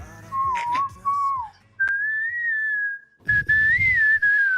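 A person whistles the catchy hook of a pop song, clear, close melodic phrases broken by short pauses, with some rustling and soft background noise beneath the later notes.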